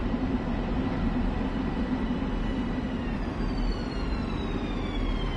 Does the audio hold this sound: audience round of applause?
no